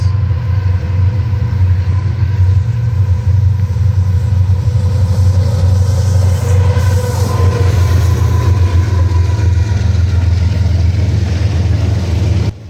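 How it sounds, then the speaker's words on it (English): A westbound freight train led by a flared Mack locomotive rolls past during a solar eclipse in Ohio, a loud, steady low rumble of engines and wheels holding evenly throughout with no voices. "A westbound train came through during the eclipse with a flared Mac as the leader"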